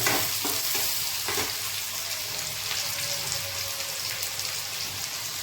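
Onion and ginger sizzle steadily in oil over a low flame, with a few spoon scrapes early on against a constant hiss; no one speaks.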